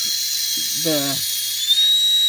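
A high-speed rotary burr carving into a duck eggshell gives a continuous thin, high whine throughout, with a brief spoken voice partway through.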